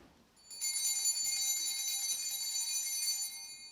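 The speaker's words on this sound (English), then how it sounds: "The bells." Sleigh-style jingle bells ring in a steady, continuous shimmer for about three seconds, bright and close, starting abruptly and fading at the end with no talk over them.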